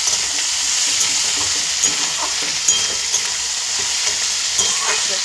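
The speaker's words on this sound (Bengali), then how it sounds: "বেশ কিছুক্ষণ এটা ভাজা ভাজা হবে ভাজা ভাজা হয়ে এসেছে" Chuna fish and onion greens sizzle loudly in a pan as they are stirred, a dense continuous frying hiss with light scraping, no voices.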